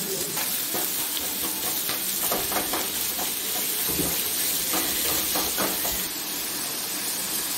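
Curry leaves and sliced onion sauté in a pan for ayala pollichathu, a bright continuous sizzle broken by scraping stir strokes, close and fairly loud, with no talking.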